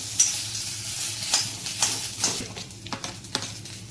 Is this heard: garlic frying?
yes